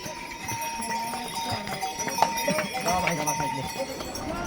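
Horses' hooves clip-clop on a mountain trail on the route to Kedarnath, a quick uneven patter of hoofbeats under people talking nearby.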